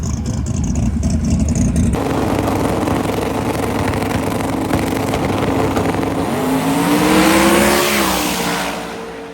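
Pro mod drag race cars make a side-by-side pass at Sick Week, a loud, sustained engine roar that swells with rising whining tones near the end before fading away.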